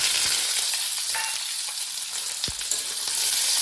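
Chopped onion fries in hot oil with black cumin, cumin seeds and bay leaves, giving a loud, dense, continuous sizzle with a few faint stirring clicks, close and steady without talk.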